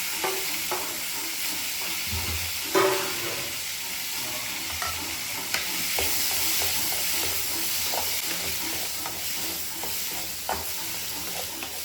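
Vegetable upperi being stir-fried in a pan, with a steady close sizzle, frequent scraping and clacking of a spoon against the pan, and a few louder knocks along the way.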